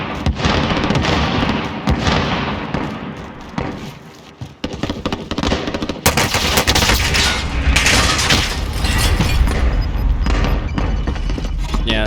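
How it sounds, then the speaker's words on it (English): Gunfire in the Call of Duty Warzone battle royale game, with loud sharp sniper-style shots and booming blasts over a steady din of battle, dense and continuous through the clip. "Sniper rifle here."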